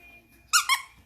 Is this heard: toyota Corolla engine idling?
no